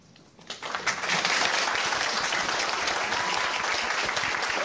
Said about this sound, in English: join me in giving a warm round of applause to Pro Football Hall of Famer